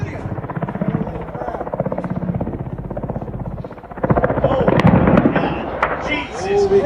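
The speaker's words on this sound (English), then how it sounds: "A light helicopter cruises close to the ground above a business district. It begins to sway and decelerate, nearly pausing in place." A light helicopter flies low over a business district, its rotor chop steady and loud, then a sudden burst of louder cracking and clattering as part of the tail breaks off in mid-air, with voices rising underneath.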